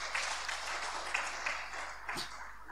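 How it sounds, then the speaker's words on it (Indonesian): Church congregation at a KINGMI church gathering in Jayapura, Papua, applauding together in a quiet, steady patter of many hands, heard at a distance with no voices over it. "Tepuk tangan yang meriah untuk Tuhan kita."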